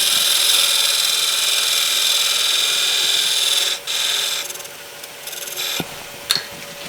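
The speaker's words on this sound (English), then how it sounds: "I've got my diamond parting tool that I've got sharpened at a very good angle right in there, so I can get into this area" A diamond parting tool cuts into a spinning burl wood box on a lathe, giving a loud, steady hissing scrape that breaks off, then returns in shorter bursts with a few sharp knocks.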